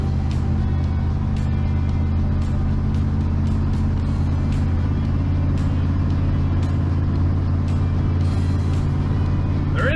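A 1980 Ford F-350 service truck drives along with a steady, droning engine and road rumble heard from inside the cab, the gearbox shifting up early into second gear, with faint ticking noises on top.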